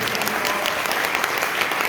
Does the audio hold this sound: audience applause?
yes